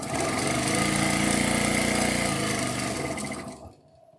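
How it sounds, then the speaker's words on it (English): A self-oiling mechanical computerized sewing machine runs at high speed, a loud, steady close-up whir and hum that holds for several seconds before cutting off abruptly near the end. "this is kind of a mechanical computerized sewing machine, so it sews high speed"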